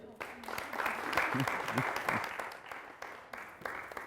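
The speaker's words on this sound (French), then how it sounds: "Jamila est présente parmi nous. Merci de l'applaudir." A studio audience on a Burkina Faso TV comedy show applauds a comedian, a full, fairly close burst of clapping that swells and then fades slightly, with a few brief vocal sounds mixed in.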